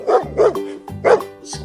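A squishy brown toy dog lets out three yappy barks in quick succession, close and loud, with short gaps and no talking.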